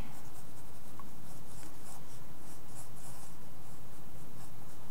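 Pencil sketching the lower body of a manga figure on paper, a continuous close scratchy scraping with rhythmic stroke pulses, steady and unbroken throughout.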